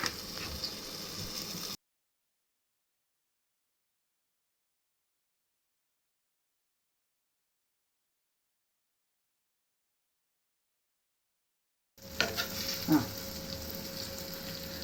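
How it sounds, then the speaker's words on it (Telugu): Ridge gourd curry cooks under a lid in a pan, with faint, soft sizzling in brief stretches at the start and end and complete silence between. "ఇప్పుడు నేను దీని మీద లిడ్ పెట్టుకొని ఉడికించేసుకుంటున్నాను"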